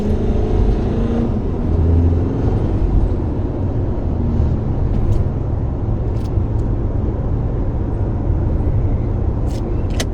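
A Mitsubishi Delica D:5 accelerates at full throttle on an expressway, with a loud, steady engine roar and road noise heard from inside the cabin.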